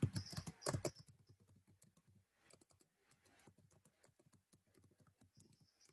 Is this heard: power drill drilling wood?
no